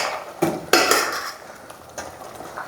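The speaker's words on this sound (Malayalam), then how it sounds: "അടച്ചു വയ്ക്കുക." A lid is set onto a pot of beef curry with two sharp metallic clanks close together, followed by a lighter rattle and a few soft taps as it settles.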